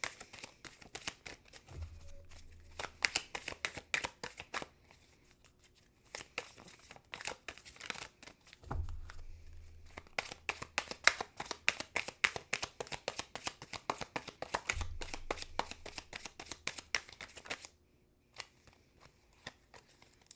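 Tarot cards are shuffled and drawn in close, dry bursts of riffling and flicking. Busy stretches of card noise alternate with brief pauses, and a low thump sits under it at intervals. No one speaks.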